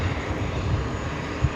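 Delta passenger jet at New York's JFK airport, arriving from Berlin, a steady broadband engine roar with a low rumble throughout, heard from a distance without any talk.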